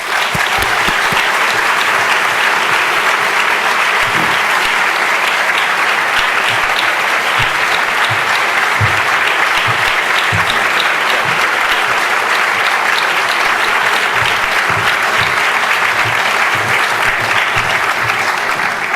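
An audience applauds Professor Amartya Sen at a lecture, a steady, dense wash of clapping from a large crowd that holds at full strength without pause, with no voices over it.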